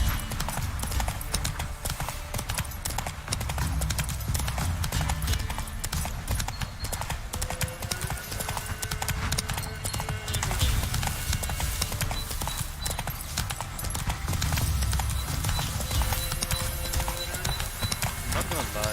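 Roach the horse gallops in The Witcher 3 game, a loud, steady rapid clip-clop of hooves running continuously throughout, with game ambience layered underneath.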